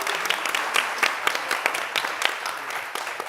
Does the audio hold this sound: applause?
yes